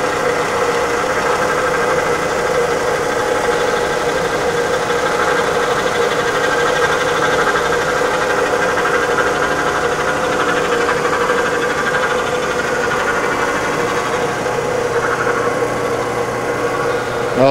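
A Herminghausen centerless grinder runs steadily throughout, a dense continuous mechanical hum and drone with constant level and no breaks, close and loud.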